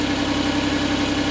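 Suzuki Every DA62V van with K6A engine idling through its stock muffler fitted with a muffler cutter, a steady low droning hum close to the exhaust, no voices.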